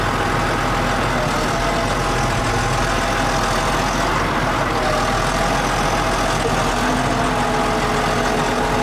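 A tractor engine hauling a log in New Zealand runs loud and steady, a continuous rumbling drone close by with no pauses.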